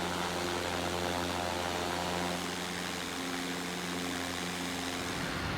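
PMDG 747 engines in the Prepar3D v4 flight simulator hum steadily at idle on the runway, a loud, continuous roar with low droning tones that runs throughout and stays alone with no speech.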